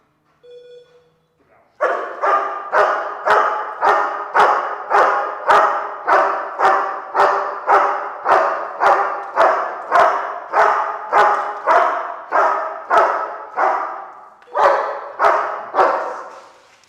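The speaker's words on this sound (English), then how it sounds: "He was probably going to continue barking anyway on his own there" A dog being trained with an electronic collar barks in a long, regular series of about twenty loud, close barks, pausing briefly before a few more.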